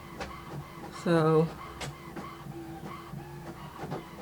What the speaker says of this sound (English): I really hope that printer is not distracting